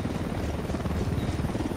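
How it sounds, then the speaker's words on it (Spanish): A helicopter in the game Ghost Recon Wildlands thuds along with a dense, continuous rotor beat and engine roar, loud and close, with no talk. "Se acerca un helicóptero."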